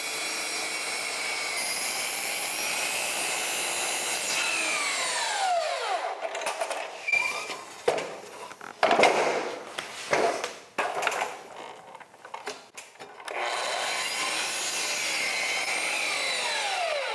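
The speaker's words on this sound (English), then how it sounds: "I'll flip the board around and then chop it, finish the cut for these 2x10s" A saw cuts through 2x10 wooden framing boards in an attic, a steady rasping stroke that breaks into choppy bursts and pauses midway before resuming a continuous grind, fairly close and moderately loud.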